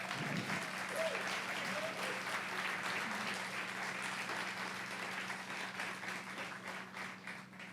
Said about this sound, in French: Un immense tonnerre d'applaudissements pour Madison.